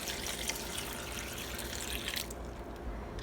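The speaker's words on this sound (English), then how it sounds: "And you're going to add a cup of water." Water pours steadily in a soft, close stream for a couple of seconds into a Ninja Foodi pressure cooker, then stops, followed by a faint clunk.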